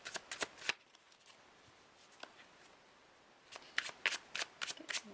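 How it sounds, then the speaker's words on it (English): Tarot cards being shuffled by hand, with bursts of quick riffling flutters at the start and end separated by a quieter stretch of light handling, close and crisp. "I don't mind shuffling because I just did a big swirl with these on the table"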